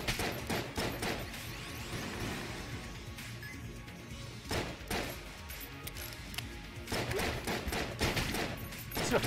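Gunfire with explosive rounds in Enter the Gungeon, a dense run of rapid shots and blasts that keeps going throughout, with brief louder bursts near the middle and end.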